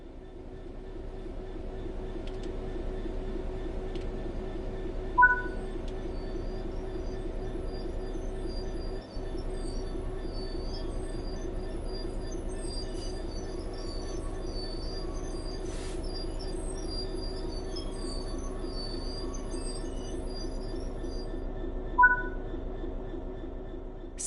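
Diesel train running in Train Sim World 4, a steady low engine drone and rolling rumble with faint high squeals and two brief horn-like tones, continuous and even throughout.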